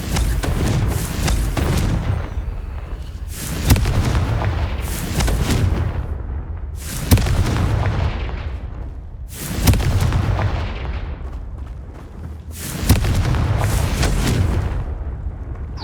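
Confringo spell explosions in the Hogwarts Legacy video game: five loud, booming blasts spaced a few seconds apart, each sharp onset trailing off into a rumbling decay.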